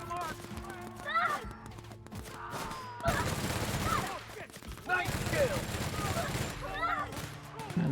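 Bursts of rapid machine gun fire crackle through a firefight in The Outer Worlds video game, loud and close, with a player's voice talking over parts of it.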